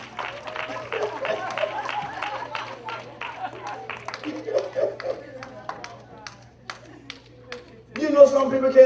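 A church congregation gives scattered, individual claps that are distinct and countable, thinning out to a few last claps before a voice speaks at the end.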